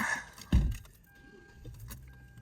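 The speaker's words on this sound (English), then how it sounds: "Where's the keys?" Car keys jangle briefly inside a Hyundai Elantra, a quick metallic rattle with a soft thunk, then a faint electronic chime tone continues under quiet cabin ambience.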